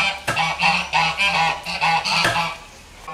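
Ducks coming to eat peelings, a run of loud nasal honks in a quick, rhythmic series close by, with no speech over them.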